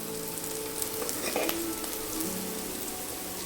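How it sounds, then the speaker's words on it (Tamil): Sliced onions and green chilies sauté in an oily pan for a Tamil sodhi, giving a steady soft sizzle and crackle close up, with a brief clink of stirring partway through. "இப்போ இந்த வெங்காயம் நமக்கு நல்லா வதங்கி வரணும்."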